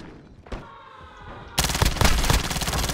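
Automatic weapon fire in Call of Duty: Warzone, a few quiet noises followed by a loud, sustained close-range burst of rapid shots lasting over a second, dense and continuous.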